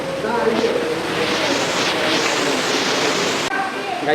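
Small indoor waterfall fountain in an aquarium, a steady close rushing splash of falling water filling the whole stretch, with a faint murmur of people in the background.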